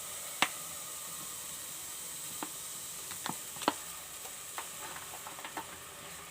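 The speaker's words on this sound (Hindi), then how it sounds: "प्याज को हम बिल्कुल हल्का सा लाइट सा ब्राउन कर लेंगे।" Chopped medium onions sizzling in half a cup of oil in a pan, a steady soft hiss with occasional crackles and stirring clicks, close and fairly quiet, no voice.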